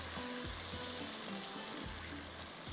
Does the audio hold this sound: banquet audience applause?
no